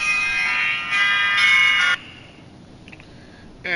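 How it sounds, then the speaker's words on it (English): An electronic alarm going off, a loud, sustained buzzing tone in two pulses lasting about two seconds, then a quiet gap broken by faint beeps before the tone starts again at the end. "And that's my alarm."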